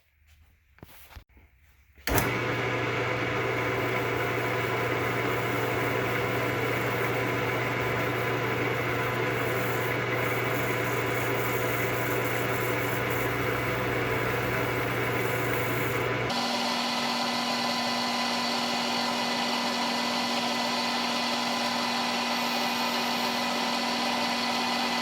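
A wood lathe spins a pen blank while it is sanded from 220 to 400 grit, a steady close motor hum and rushing whir that starts abruptly and shifts pitch partway through as the speed changes.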